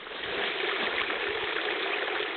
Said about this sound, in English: there's the water coming in